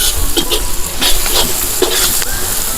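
Onions fry with salt in a pan for chicken curry cooked outdoors in a forest, giving a steady close sizzle with repeated scraping stirs throughout.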